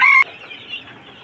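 A hen on a small farm, where several laying hens share a turkey cage, gives one short, loud, sharp cluck at the very start, then only a faint, quiet background remains.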